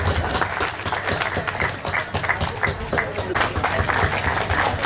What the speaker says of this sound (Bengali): হাততালি হয়ে যায়।